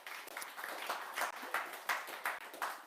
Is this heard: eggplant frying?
no